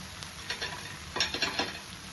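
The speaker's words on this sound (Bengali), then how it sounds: "এবার ভালোভাবে আমি এটা মিশিয়ে নেব" A spoon stirs masala bread pieces with chopped coriander in a hot pan, giving soft sizzling and a quick run of scraping strokes, close and fairly quiet, with no voices.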